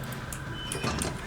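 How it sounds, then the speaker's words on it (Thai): A door shuts in the horror video game Outlast, heard as a couple of short, scraping, sliding knocks over a low steady background hum, with no one talking. "ปิดประตูก่อนนะแจ"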